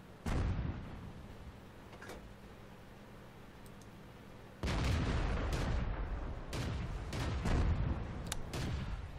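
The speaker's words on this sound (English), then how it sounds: "Oh, I missed that shot on this Churchill, unfortunately." Tank cannon shots from a Churchill in World of Tanks, several sharp booming blasts with a heavy broadband crack, the loudest burst near the middle followed by further reports and rumbling battle noise.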